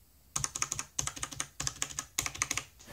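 Typing on a Corsair K55 RGB gaming keyboard, four close bursts of quick clacking keystrokes separated by brief pauses, with no voices.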